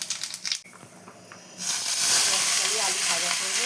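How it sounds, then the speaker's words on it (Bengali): Dry red chillies and nigella seeds hit hot oil in a wok, breaking into a loud, steady sizzle and hiss after a moment of quieter kitchen sounds, with a voice faintly in the background. "শুকনো লঙ্কা কালো জিরে ফোড়ন দেবো।"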